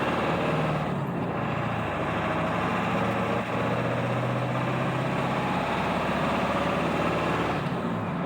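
A 7.3 Powerstroke diesel truck hauling a 16,000-pound trailer, its engine droning steadily at close range with a dense low rumble and no clear gear changes or talk.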